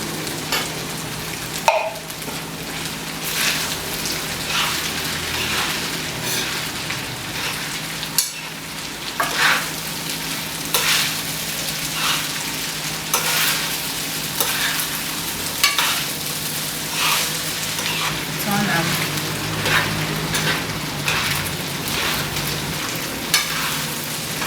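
Nigerian fried rice sizzles steadily in a pan while a spoon stirs and scrapes through it, with a few sharper knocks against the metal over a continuous frying hiss, no voices.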